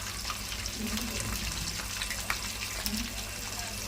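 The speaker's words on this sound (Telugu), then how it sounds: "ఇట్లా మళ్ళీ అన్నీ ఒకసారి వేసేసుకొని ఫ్రై చేసేసుకోవాలి." Chicken 65 pieces frying crisp in hot oil in a kadai, giving a steady close bubbling sizzle that runs unbroken from start to end.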